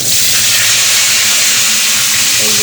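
Potatoes tossed into hot oil with white cumin seeds sizzle loudly and continuously in a pan, a dense close-up hiss with no voices.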